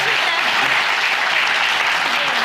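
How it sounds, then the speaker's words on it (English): An audience at the Ig Informal Lectures breaks into loud, dense applause that fills the hall evenly for a couple of seconds with no pause. "Round of applause."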